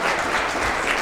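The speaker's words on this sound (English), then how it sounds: "So I think this deserves another hand, big hand, and round of applause." Applause from a keynote audience at a closing session, steady dense clapping with no voices, brief and moderately loud throughout.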